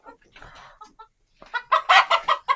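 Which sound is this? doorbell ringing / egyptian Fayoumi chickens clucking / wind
egyptian Fayoumi chickens clucking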